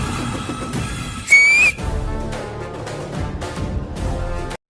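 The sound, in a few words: loud one-hand whistle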